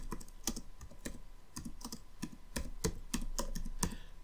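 Keystrokes on a computer keyboard as a phrase is typed in all caps, a steady run of close, crisp clicks with a few louder taps, no voices over them.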